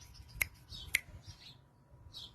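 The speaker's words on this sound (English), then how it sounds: "Snap your fingers 3 times" Two sharp finger snaps about half a second apart, close and crisp, over a quiet background with faint rustling and a soft high chirp near the end.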